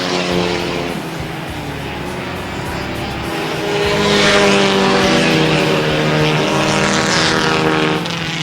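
Race cars roar past on a Plattsburgh, New York speedway track, a loud continuous engine blare that swells as the pack draws near and sweeps by, with crowd and track noise underneath.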